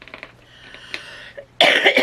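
A single loud, harsh cough bursts out near the end after a stretch of quiet, faint room noise.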